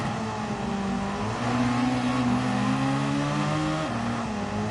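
A BMW race car in Gran Turismo 7 drones along with a steady engine hum, its pitch climbing gradually through a gear and then dropping briefly, loud and close.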